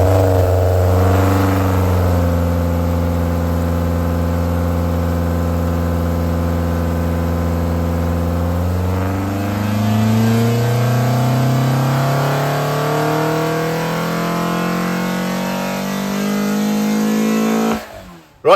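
A Ford Zetec Blacktop engine runs on a dyno, holding a loud steady drone before climbing smoothly in pitch through a long rev, then cutting off abruptly near the end.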